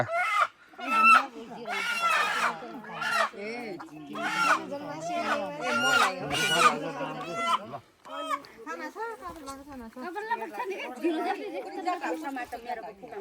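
Chickens cluck and squawk in a busy flock, with honking calls and people talking over them.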